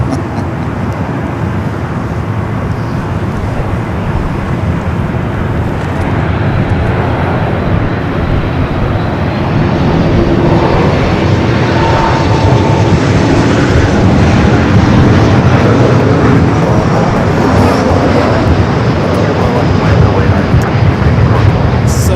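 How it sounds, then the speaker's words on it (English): A Cessna Grand Caravan turboprop arriving at LAX passes as a loud, continuous wash of engine and air noise that swells slightly toward the middle and end, with no clear voices over it. "The Cessna Grand Caravan, Flight 805."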